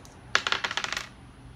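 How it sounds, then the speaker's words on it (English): Dice rolled onto a hard surface, a quick clattering run of about ten bright ticks that bounce and settle within a second, close by and with no voices. "I'm going to go ahead and roll it."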